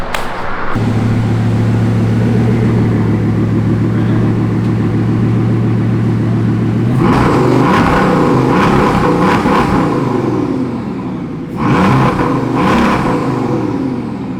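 A Bugatti engine hums at a steady idle, then surges into loud, snarling revs, drops briefly, and climbs into another hard rev close by.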